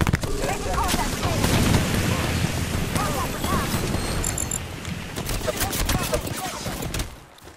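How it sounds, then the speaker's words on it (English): Dense, continuous gunfire and explosions from an Apex Legends fight roar throughout, with game voice callouts layered over the din before it fades at the end. "Getting shot at."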